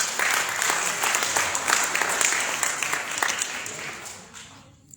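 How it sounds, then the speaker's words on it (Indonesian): An audience claps at an AMPG DKI Jakarta plenary meeting, a dense round of applause that gradually tapers off and dies away near the end. "cukup tepuk tangan dulu dong."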